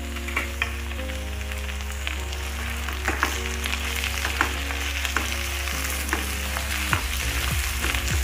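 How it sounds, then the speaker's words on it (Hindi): Potatoes and blanched cauliflower frying together in a pan, a continuous close sizzle with occasional light clicks of stirring, no talking. "ये दोनों जब तक गल जाए तब तक हमें इन्हें फ्राई करना है।"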